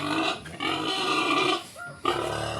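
Farm pigs awaiting morning feeding squeal and grunt loudly and continuously nearby, several overlapping noisy calls with a brief pause near the end.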